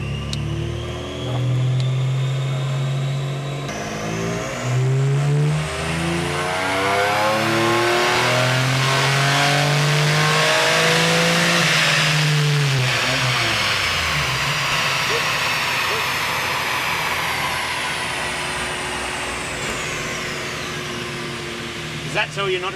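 A high-power built car engine with a 3.5-inch exhaust revs hard on a dyno, its note sweeping up through a long sustained pull to a screaming peak before dropping away, loud and close, with voices talking briefly around it.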